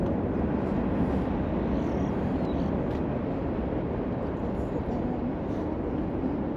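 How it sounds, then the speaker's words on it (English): Cargo train passing through a valley, a steady low rumbling roar heard outdoors from some distance, continuous and even, with no voices. "cargo train"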